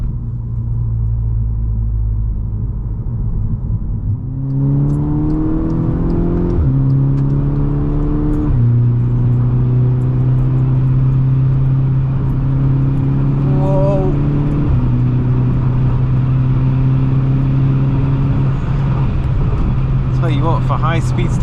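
A VW Golf MK6 GTI with a 2-litre petrol engine accelerates hard through the gears, engine note climbing in pitch then dropping at each shift, heard from inside the cabin under continuous talk.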